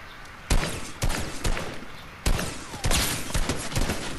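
Gunfire in a video game shooter featuring a double-barrel shotgun: several loud, sharp shots spaced unevenly about half a second apart, with softer crackling between them and no talk over it.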